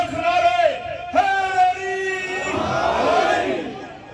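A large gathering at a religious majlis for Hazrat Imam Ali chants Ya Ali together in loud, sustained waves of massed voices, the slogans rising and overlapping.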